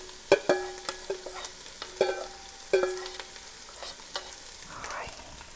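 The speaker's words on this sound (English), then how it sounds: "You hear it sizzling already." Vegetables and garlic sizzling in olive oil in a soup pot, a soft steady frying hiss broken by sharp clinks and scrapes of a spoon stirring, close up, with no talking.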